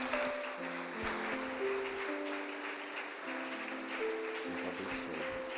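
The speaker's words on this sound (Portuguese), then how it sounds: "Aplauda, Senhor." A church congregation applauds after a prayer, continuous clapping from many people over sustained keyboard notes, with a voice or two rising through the crowd.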